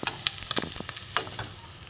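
Vola fish frying in a pan, with scattered crackles and sizzling pops and a spatula stirring and scraping now and then, close by and fairly quiet.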